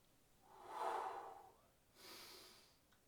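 A person breathing during an abdominal and glute workout, one long audible exhale followed by a softer inhale, close and fairly quiet.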